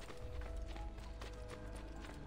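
Horse hooves clip-clop in the video game Assassin's Creed Brotherhood, a steady rapid patter under a dense bed of game music and ambience.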